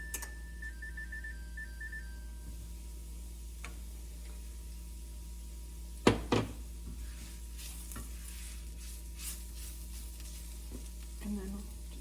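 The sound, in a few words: stroganoff with wine sizzling and stirred in pan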